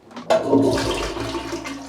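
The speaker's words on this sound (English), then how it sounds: "Toilet can't flush properly. Check this out." A household toilet that does not flush properly, heard as a loud rushing gurgle of water that swells quickly and keeps draining steadily, close up, with no talking.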